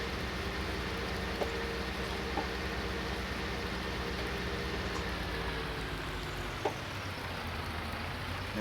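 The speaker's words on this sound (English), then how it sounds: "it raining today" Steady rain falls outdoors on a wet late-summer day in the countryside, a constant even hiss with a few faint isolated taps, and no voices.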